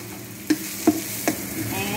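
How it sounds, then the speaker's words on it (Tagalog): Onion and garlic frying in a pan until brown, a steady close sizzle punctuated by four evenly spaced scrapes of a stirring utensil. "Inantay nga lang natin, guys, na mag-brown, mag-turn to brown yung ating onion and garlic."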